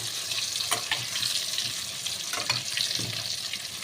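New potatoes frying in hot oil in a wok hiss with a steady sizzle, with a few soft stirring scrapes and clinks over the continuous crackle.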